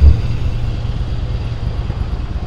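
A 2006 Yamaha Silverado 1100 cruiser motorcycle engine idles quietly and steadily, a low, even rumble that stays constant throughout with no revving.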